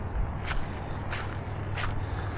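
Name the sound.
highway car traffic near a lake path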